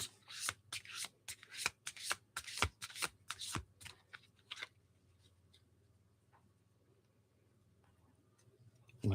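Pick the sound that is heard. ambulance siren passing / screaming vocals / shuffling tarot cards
shuffling tarot cards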